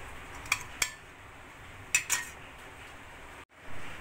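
Knife and plate clatter while steamed instant semolina idli are loosened with a knife and lifted onto a plate: a few sharp metallic clinks in two quick pairs over a quiet kitchen background, close by, no talk.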